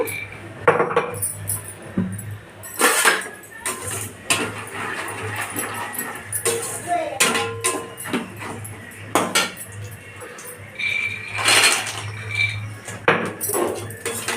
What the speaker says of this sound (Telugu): వేగుతున్నాయి పలుకులు